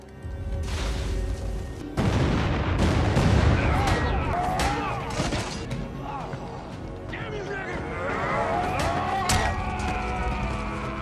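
Heavy blasts and rumbling detonations go off outside a camp in an action film, loud and booming, layered with chaotic movie sound effects and brief voices throughout.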